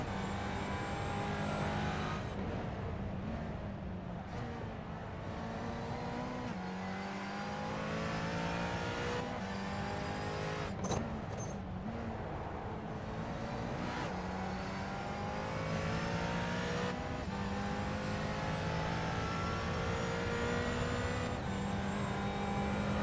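A McLaren GT4 race car on the Chicago street circuit revs hard through rising gears, its steady loud engine drone sweeping up in pitch with brief dips at each shift, continuous and close throughout.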